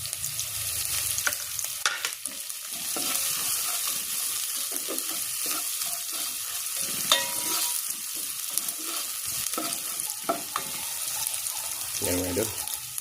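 Lemongrass is stirred into a sizzling pot for chicken arroz caldo, a steady frying hiss with scraping stir strokes and clinks close by, while a voice talks briefly over the cooking.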